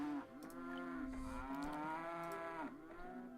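Cattle in the Settlement Survival video game low in a long drawn-out moo, then a second overlapping call, loud and clear with faint clicks in the background.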